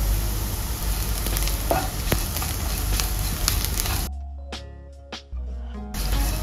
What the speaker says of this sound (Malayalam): ഉള്ളി നല്ലോണം ഒന്ന് മുരിഞ്ഞിട്ടുണ്ട്